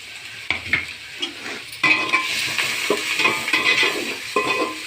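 Sliced onion for fried rice fries in hot oil, a steady sizzle broken by scraping stirs and occasional clinks of the spatula against the pan, close up with no talking.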